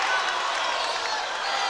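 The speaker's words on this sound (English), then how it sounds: "This Waverly crowd does not agree at all" At a Waverly high school basketball game, the home crowd reacts to a foul call with a steady, dense roar of many voices in a gym, loud and unbroken throughout.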